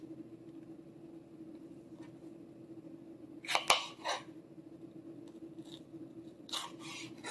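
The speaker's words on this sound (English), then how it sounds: "Let's cut this into strips." A kitchen knife slices vegetables into strips for a hot and sour stir-fry: two short bursts of crisp cuts against a faint background hum, quiet and without speech.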